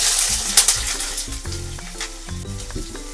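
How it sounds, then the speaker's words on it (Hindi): Sliced onions sizzle steadily in hot oil along with garlic, ginger and green chili over low heat for a homestyle aloo methi, with crackling bubbles and scraping spoon strokes as the pan is stirred. "गुलाबी होने तक इस प्याज को हम भूनेंगे।"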